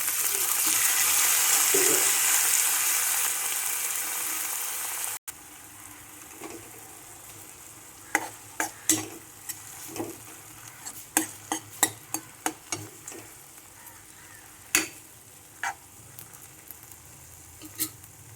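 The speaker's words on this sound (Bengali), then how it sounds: "এবারে আগে থেকে সেদ্ধ করে রাখা শাকগুলো ফোড়নের মধ্যে দিয়ে দিচ্ছি।" Boiled red amaranth greens (chaulai, lal saag) hit a hot tempering with a loud, dense sizzle for several seconds. It cuts off sharply, then a spatula scrapes and knocks against the pan in irregular stirring strokes.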